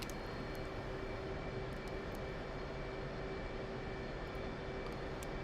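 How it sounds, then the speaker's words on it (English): Engines of an F/A-18 Hornet jet idling steadily in a DCS World flight simulation, a constant broadband roar with a fixed whine, loud and unchanging throughout with no talk. "let's go ahead and the engines are started"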